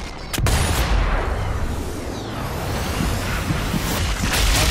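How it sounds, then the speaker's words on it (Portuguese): Dense gunfire rattles in the Sniper Elite 4 video game during fighting in Italy, a sharp close shot followed by a loud continuous barrage of overlapping bursts and booms with no voices. "Atirando em mim, rapaz, fica atirando em mim, maluco."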